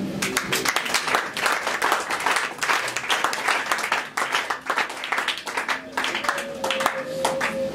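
A church congregation claps loudly and continuously to acclaim the Lord during a service, with dense overlapping hand claps, voices calling out beneath them and a sustained tone entering near the end.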